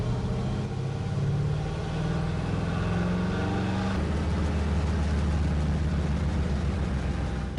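A car engine runs under load on a dyno, making a steady, close, droning hum whose pitch and tone shift partway through.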